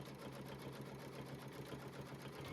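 Embroidery machine steadily stitching quilting lines on a fabric in-the-hoop bowl cozy, a fast even mechanical whir and needle rhythm, faint and continuous with no talking.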